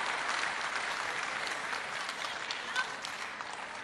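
Spectators applauding after a long rally at a women's singles table tennis match at a European event, a dense burst of clapping that slowly thins while commentators talk over it.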